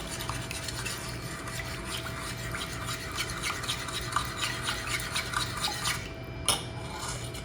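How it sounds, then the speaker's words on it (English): Ingredients stirred together with whiskey in a bowl, a continuous wet scraping and swishing close up with faint clinks, then a brief sharper knock near the end; no voices. "And then we mix."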